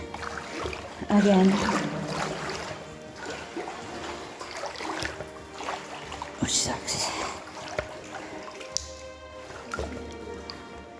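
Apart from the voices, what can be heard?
wading through deep water in a flooded abandoned mine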